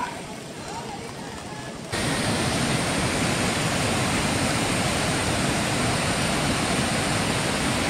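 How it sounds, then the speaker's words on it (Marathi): Water of the Savatkada waterfall near Rajapur plunges into a valley, a loud steady roar of rushing spray that surges up sharply after about two seconds and then holds constant, close and dense. "हे धबधब्याचं पाणी पडतंय"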